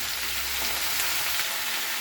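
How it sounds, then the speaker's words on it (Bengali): Sliced onions fry in hot oil in a pan for a Bengali fish curry, giving a continuous close sizzle with faint scraping as they are stirred and spread out, and no talking. "এবার খুব ভালো করে নাড়তে হবে, এইভাবে নেড়ে একটু ছড়িয়ে ছড়িয়ে দিতে হবে।"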